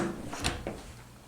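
A hotel bathroom door in a junior suite swings and clunks shut in one brief, close knock, with a quiet room tone before and after.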